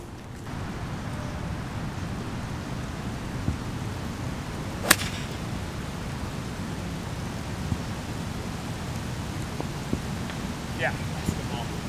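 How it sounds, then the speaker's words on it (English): Light rain begins falling on Van Cortlandt golf course in New York City, a steady soft hiss with a few sharp clicks scattered through it. "rain's coming a little bit"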